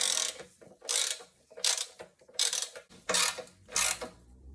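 A ratchet wrench fitted with a 16mm socket tightens rear suspension bolts on a Rover 75/MG ZT, giving six crisp bursts of rapid clicking separated by short pauses, close and clear.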